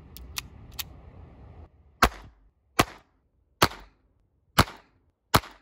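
Five sharp pistol shots from a 1962 Astra Cub fired at an outdoor range, spaced roughly a second apart, loud and close with short decays, preceded by a few lighter clicks over faint background noise.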